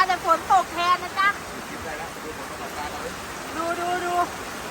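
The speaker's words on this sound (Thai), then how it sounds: "โอ้แรงมากฝนสาดเปียกหมด" Heavy rain pours steadily during a stormy fishing outing at a hut by the rice fields, a dense hiss running throughout while voices talk over it in bursts.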